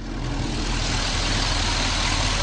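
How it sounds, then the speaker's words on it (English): A 2006 Chevrolet Corvette convertible's LS2 V8 with a CORSA performance exhaust rumbles steadily at idle, a loud, deep, continuous low drone with no breaks. "That is the CORSA exhaust."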